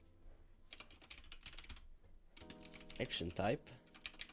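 Fast, uneven clatter of a worn computer keyboard being typed on nearby, running through most of the stretch while someone talks over it.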